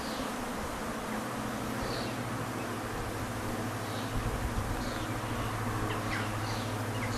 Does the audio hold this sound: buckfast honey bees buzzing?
yes